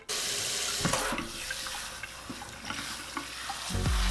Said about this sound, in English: I like to start off by wetting my hair with warm water.